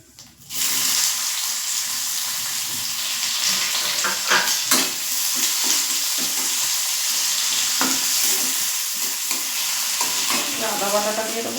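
Whole cumin seeds and chopped onion hitting hot oil in a frying pan, a loud, steady sizzle that starts abruptly and carries on close up, with occasional scrapes and clinks of a utensil on top.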